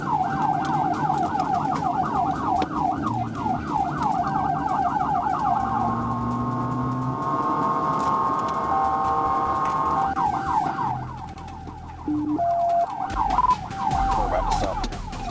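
Police car sirens wail continuously during a high-speed pursuit, rapid yelping and rising-falling tones over road and engine noise, loud and close, with the pattern shifting partway through and a brief drop near the end.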